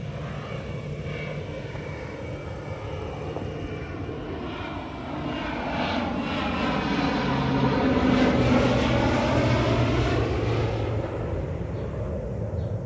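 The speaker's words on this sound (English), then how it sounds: "some crop dusting plane action in the background" A crop dusting airplane drones overhead in the background, its propeller engine a steady, moderately loud hum that swells and grows nearer partway through, with no talking.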